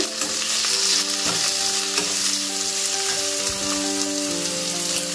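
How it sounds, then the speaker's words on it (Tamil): Onion mixture seasoned with salt and pepper sautés in a hot pan for an egg frankie roll, giving a steady close sizzle broken by repeated scraping stirs, with faint steady tones underneath and no talking. "இது நல்லா வதங்கி வரட்டும். நல்லா கிண்டி விடுங்க."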